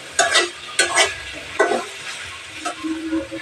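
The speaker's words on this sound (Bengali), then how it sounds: "মাছটা দিয়ে একদম একটু ভালো করে মিশিয়ে দেব।" Small fish are stirred and fried in a pan, with loud scraping strokes of a spatula roughly every half second over a bright, crackling sizzle, close and alone.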